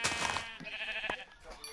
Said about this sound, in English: Oh, a sheep.